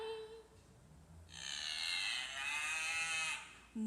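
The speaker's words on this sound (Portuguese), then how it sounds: "A vaca." A cow moos in a faint recording, one long drawn-out bellow in the middle of the clip, with a soft voice at the very end.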